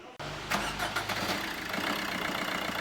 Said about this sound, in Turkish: Şimdi hava filtremizi takıp marş yapacağız.